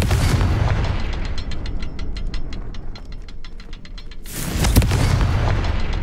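Confringo blasting spells go off in Hogwarts Legacy as a heavy booming blast, then a rapid crackling burst of small pops, then another loud deep explosion near the end.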